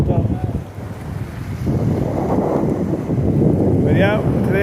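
Big waves rolling onto a black-sand shore at the north end of Lake Nipigon, with strong wind buffeting the microphone; a continuous loud roar of surf and gusts that swells midway.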